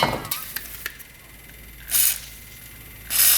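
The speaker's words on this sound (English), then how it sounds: "I'm going to spray a little WD-40 down there." Two short bursts of hissing WD-40 aerosol spray, each about a second long, loud and close against a quiet background, sprayed into a Kubota diesel UTV.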